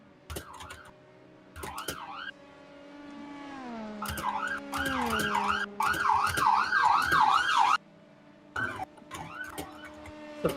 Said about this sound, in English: There's constantly sirens.